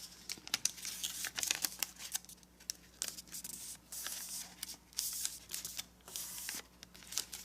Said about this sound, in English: let's fold this flap up so that the valley fold goes from this point to this point